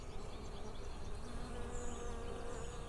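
Honey bees buzz densely and continuously around an opened beehive during an inspection, a close, steady drone with no talk.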